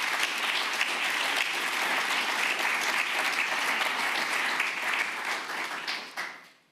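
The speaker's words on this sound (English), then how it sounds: "So please give them a round of applause for making it happen." Audience applause at an international forum on global citizenship education: a dense, steady burst of many hands clapping that holds for several seconds, then fades out toward the end.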